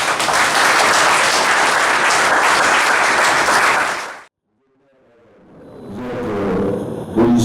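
A wedding audience applauds loudly and continuously as a king rises, dense clapping that cuts off abruptly midway, followed by near silence and then a softer, murmuring crowd sound.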